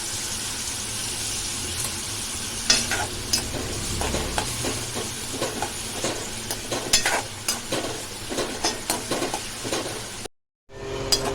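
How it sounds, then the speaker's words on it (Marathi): Steady oil sizzle of dried Bombay duck fish frying in a pan, with intermittent scraping and stirring clicks, close up and continuous, briefly cutting out near the end. "आपण बोंबील फ्राय करून घेऊया"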